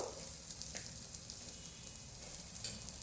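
Holige flatbread frying in hot oil gives a steady, even sizzle with a crackling hiss, close and moderately loud throughout, with no voices.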